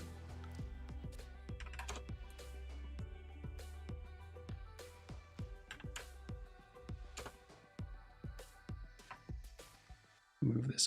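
Keystrokes on a computer keyboard come in a steady run of close, crisp clicks with brief pauses, under faint background talk, while a shape is drawn and text is typed in a prototyping session.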